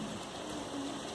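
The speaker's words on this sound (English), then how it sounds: "This is a monsoon or tsunami or a rainstorm." Heavy monsoon rainstorm, a dense, steady hiss of rain pouring down, fairly faint and continuous throughout with no voices.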